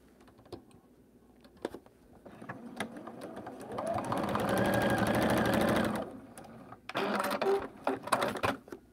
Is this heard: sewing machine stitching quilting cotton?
yes